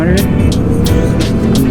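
A Honda CBR 300 motorcycle passes on a group ride, its engine droning loudly with bursts of broadband roar while voices talk over it.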